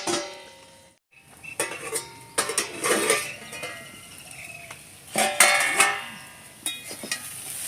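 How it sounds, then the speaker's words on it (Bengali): A lid set onto a cooking pot while snake gourd is being cooked, giving several sharp metallic clanks and clatters close by, spread across the clip, with a faint sizzle underneath. "আবার ঢাকা দিয়ে দিচ্ছি"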